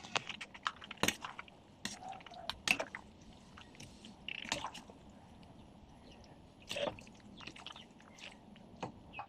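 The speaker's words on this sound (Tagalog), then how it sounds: "paghahaluin lang natin yung spaghetti at saka yung spaghetti sauce." Boiled spaghetti being tossed together with spaghetti sauce, giving soft wet squishing and sticky mixing sounds in irregular bursts, close and fairly quiet, with no talking.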